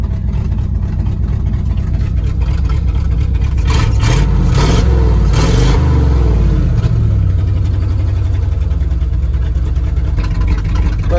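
A 1971 Ford Highboy truck engine runs in below-zero cold, a loud, close, steady rumble with a brief rev and roughness in the middle before settling back to idle.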